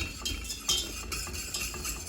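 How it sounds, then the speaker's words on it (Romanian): Cornmeal being stirred in a pot for mămăligă, a utensil scraping and clinking against the pot in steady, repeated strokes, close and fairly quiet. "Amestecăm"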